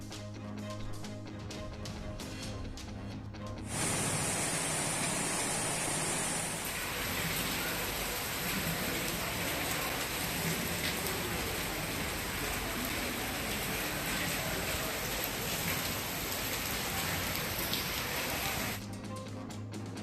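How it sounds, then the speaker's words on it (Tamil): Heavy, unrelenting rain pours down across districts in Tamil Nadu, making a loud, steady broadband hiss that builds after a few seconds and holds before easing near the end. "சேலம், திருச்சி, கரூர், திண்டுக்கல் மாவட்டங்களில் இடைவிடாது கொட்டி தீர்த்த கனமழை"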